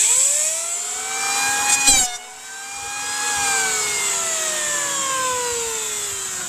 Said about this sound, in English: I'm going to take my planer here